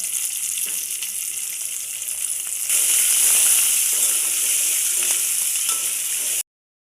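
Onions sizzle and crackle steadily in hot ghee for a breakfast rice-flour rava upma, with a dense hiss that swells louder about midway and then runs on evenly until it cuts off abruptly. No one speaks.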